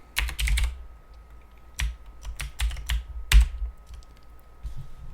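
Typing on a computer keyboard in bursts of quick clustered keystrokes separated by short pauses, close and fairly quiet with no talking.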